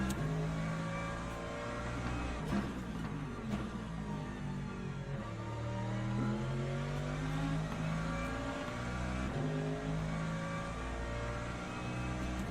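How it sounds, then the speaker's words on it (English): Hypercars in the Le Mans Ultimate racing game, a dense, continuous engine drone with shifting pitch as cars pass and change gears, loud and steady throughout. "Hypercars are coming again."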